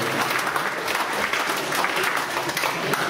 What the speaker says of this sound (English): what a mighty clap for some random person